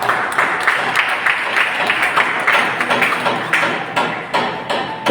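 Congregation clapping hard for the Lord at a church service, a dense sustained patter of many hands that carries on steadily throughout.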